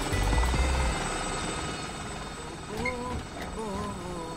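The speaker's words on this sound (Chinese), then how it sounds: "螺旋桨直升机可以更快地清理垃圾" Cartoon propeller helicopter in a children's animated rescue show, a steady whirring rotor drone running throughout, fairly close and level, with brief musical or voice-like tones rising over it near the end.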